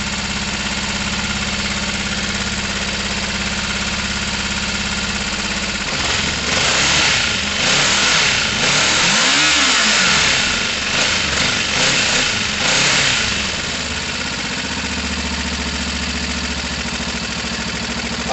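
A Gilera DNA 125 scooter engine idles after a carburettor change, a steady buzzing putter with a brief rise and wavering blip in the middle before settling back to a smooth, even idle.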